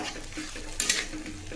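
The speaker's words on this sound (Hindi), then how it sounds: "इस तरह से हम इसे चलाते हुए भून लेते हैं।" Bitter gourd masala with tomato and turmeric is stirred and roasted in a pan, a close steady sizzle with scraping spoon strokes and a couple of brief louder clatters.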